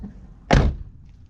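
A single solid thump of a Saab car door shutting, close by and sharp, with quiet before and after.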